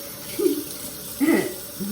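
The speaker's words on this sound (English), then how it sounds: "I'll fill the sink with water and dish soap" Water runs from a tap into a kitchen sink being filled with dish soap, a short splashing gush in two brief bursts.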